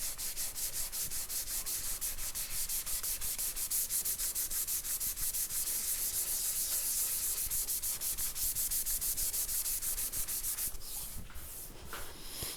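Fine 600-grit Super Assilex abrasive sheet rubbed dry across a guitar body below the controls, producing a close, loud, rhythmic scratchy hiss of quick even strokes that slows and thins near the end.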